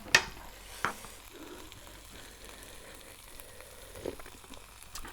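Steady, soft sizzling of guay jub with a fried egg in a hot pan, with a couple of faint clinks of a utensil near the start.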